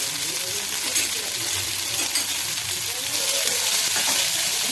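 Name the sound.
sprouted green gram frying in oil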